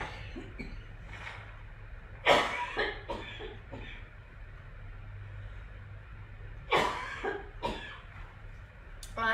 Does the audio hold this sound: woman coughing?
yes